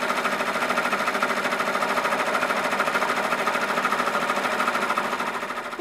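A sewing machine runs a tack-down and bean stitch on a pumpkin patchwork appliqué, its rapid, even needle chatter loud and continuous before slowing slightly at the end.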